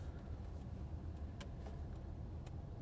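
Steady low road rumble of a car interior while driving, a constant engine and tyre drone with a few faint brief clicks, no talking.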